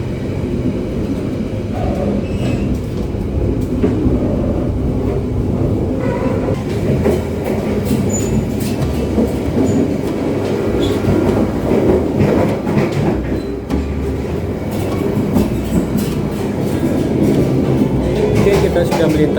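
An Argo Wilis passenger train runs on the rails through Garut in West Java, a loud, steady rumble with rhythmic clicking of wheels over track joints, heard from inside the carriage with no talking.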